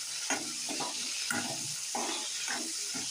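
Red chillies frying in oil in a kadai, a steady close sizzle with soft bubbling crackle running continuously under brief scraping stirs.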